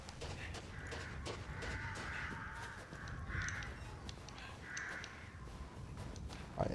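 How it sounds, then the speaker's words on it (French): Crows cawing in Resident Evil Village, several hoarse caws repeating at intervals over a steady, rumbling outdoor ambience, at a middling distance. "Mollo les corbeaux, nickel."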